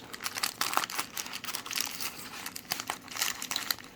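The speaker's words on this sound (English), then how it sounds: "So we'll just take a look in this bag. I'll cut these staples of this." A stapled bag is cut open and handled, with close, irregular plastic crinkling and rustling in short bursts across the whole span.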